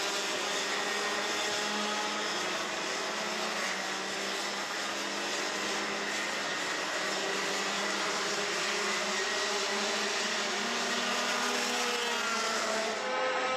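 Rotax racing kart engines in a junior heat roar together as drivers open the throttle out of a right-hand corner, a loud, continuous high-pitched buzzing drone that holds steady throughout.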